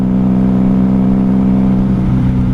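A 1994 Honda Magna 750 (VF750C) motorcycle engine idles with a deep, steady exhaust rumble, loud and close, holding an even throb without revving.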